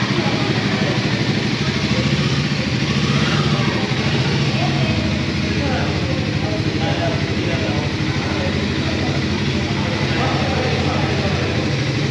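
A newly launched Harley-Davidson motorcycle idles at a dealership in Nellore, its steady loud engine rumble filling the whole stretch with little variation.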